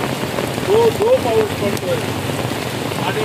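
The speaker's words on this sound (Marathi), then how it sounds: "जो पाऊस पडतोय" Rain pouring steadily outdoors in a residential neighbourhood, a dense even hiss close by, with a voice speaking briefly over it.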